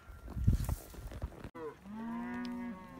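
Cattle penned during a Texas cattle drive on a cold morning: a rumble of movement, then a single long, loud, close moo with rich harmonics, with no talk.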